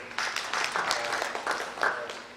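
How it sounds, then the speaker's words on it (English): Audience applause at an education summit, a short burst of steady clapping from a crowd, moderately loud and continuous with no talk over it. "We can actually give a big round of applause to"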